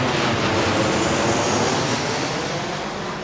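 Jet airplanes take off from an airport runway nearby, a loud continuous broadband roar that holds steady and then eases slightly toward the end.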